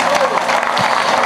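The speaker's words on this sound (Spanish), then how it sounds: "Dale un aplauso fuerte a Dios por ella." A church congregation claps and cheers loudly during a charismatic preaching service, with dense applause throughout and voices mixed into the noise.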